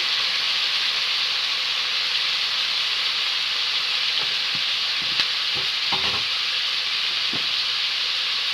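Country chicken with spices fries in a pan with a loud, constant sizzle and hiss; a few stirring scrapes and knocks come through near the end, close and with no talk.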